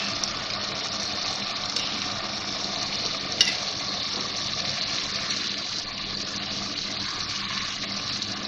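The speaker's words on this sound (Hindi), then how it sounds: "थोड़ा थोड़ा डालूंगी मैं और भूनती जाऊंगी इसको।" An egg korma masala with crushed browned onion fries in a pan, giving a steady, even hiss of sizzling oil throughout, with a single small click partway through.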